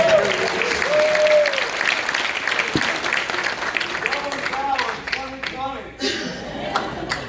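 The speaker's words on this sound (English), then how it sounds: "let's give Patty a round of applause" An audience at a congressional town hall in Deltona, Florida breaks into warm applause with a few chuckles, the clapping steady and full before thinning out toward the end as a voice begins.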